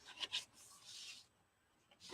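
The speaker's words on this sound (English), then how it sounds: "So let's fold and burnish." A bone folder creases and burnishes paper for a gift box with reinforced lid. Two short, close scrapes come first, then a longer, faint rubbing stroke, with no talking.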